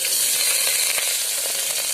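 Two large chopped onions fry in coconut oil in a pan for a mutton curry, giving a steady close sizzle with faint stirring scrapes and no talk.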